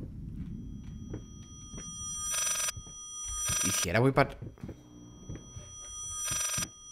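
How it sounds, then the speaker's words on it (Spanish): Sharp electronic bursts of a telephone ringing in the horror video game Layers of Fear, three separate rings, loud and close, under and between someone speaking Spanish and game sounds. "No me deja coger el teléfono"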